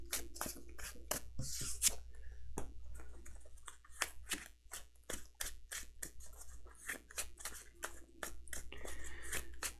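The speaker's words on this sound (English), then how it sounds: "we'll put this Cram card back in and then shuffle" A deck of Lord of the Rings LCG cards is shuffled by hand, giving quick close crisp riffling snaps in irregular bursts, with no talk.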